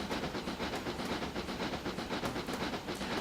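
Steam locomotive David Lloyd George on a North Wales narrow gauge railway, a steady hiss with rhythmic chuffing beats, loud and close, no voices.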